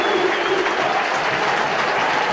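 A football crowd at a Huddersfield Town match applauds a goalkeeper's save, a dense, steady roar of clapping filling the stands from start to finish.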